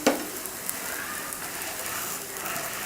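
A cabbage thokku dosa sizzles on a hot griddle, a close, steady crackling hiss with a brief clatter at the start, and no voices over it.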